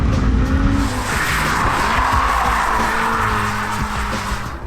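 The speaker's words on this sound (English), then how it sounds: "we were allowed a few very wet and slower than ideal laps of Sonoma Raceway" Hyundai RN24 electric race car, a heavily modified Ioniq 5 N, lapping a very wet Sonoma Raceway, with a continuous loud electric motor whine, shifting pitch and tire hiss on the soaked track, heard from inside the car.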